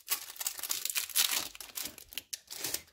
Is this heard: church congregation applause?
no